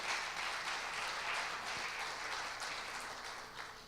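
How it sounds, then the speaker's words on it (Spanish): A church congregation breaks into dense, sustained applause, many hands clapping at once and continuing steadily before tapering slightly. "Hermanos, démosle un fuerte aplauso al Señor."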